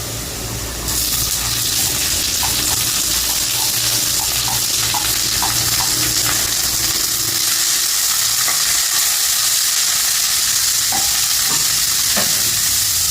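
Banana flower being fried with browned onions in a pan for poriyal, a loud continuous sizzle with clicking stirs and scrapes throughout, close up and alone without speech.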